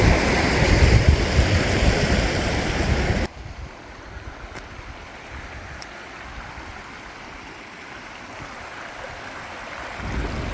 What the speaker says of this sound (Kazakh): Мына жерде керемет бір су ағып жатыр.